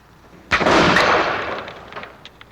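A single loud rifle shot fired in the woods, a sharp crack followed by a long decaying rumble and echo, with faint rustling afterward.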